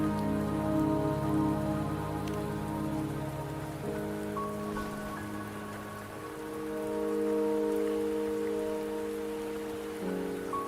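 Steady rain falling in the video game Wuthering Waves, a continuous soft patter on surfaces beneath a layer of sustained background music tones, with no talk.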